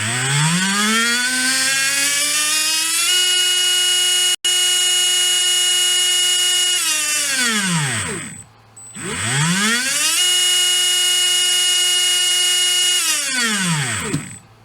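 A HobbyWing V10 G4R 17.5T brushless motor spins up twice on test, a loud whining tone that climbs in pitch, holds steady at full speed, then winds down, with a brief gap between runs.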